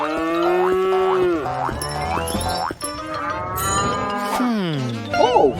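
A voice imitates a cow mooing with long, drawn-out, wavering moos in a playful setting, fairly loud and close, with no cow actually present.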